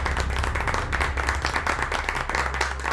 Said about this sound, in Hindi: गंगा की स्पीच सुनकर वहां सबने तालियां बजाने शुरू कर दी।